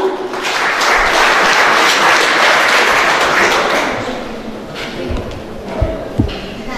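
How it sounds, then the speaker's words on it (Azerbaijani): An audience at an event held at a military unit gives loud, dense applause for a singer. The clapping swells for several seconds, then thins out into scattered claps and a few thumps. "Alqışlarınızla."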